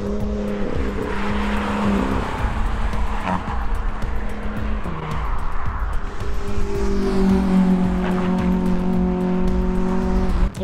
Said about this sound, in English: That Fiesta is absolutely just flying around. That's the one making all the noise as well.